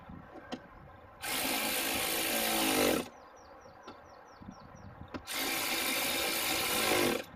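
A power driver tightens fasteners on the rear door of a 2015 Chevrolet Equinox in two loud, sustained whirring bursts, each about two seconds long, with quiet handling noises between them.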